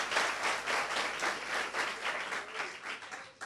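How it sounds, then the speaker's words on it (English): Steady applause from a school assembly audience, a dense wash of many hands clapping continuously for several seconds at moderate distance. "louder round of applause for our school"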